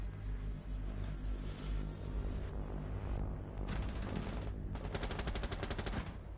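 Video game gunfire crackles in a tactical shooter mission, with a few scattered shots followed by two rapid automatic bursts over a constant low rumble of background game noise.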